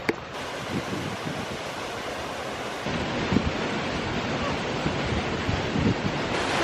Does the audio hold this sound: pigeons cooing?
no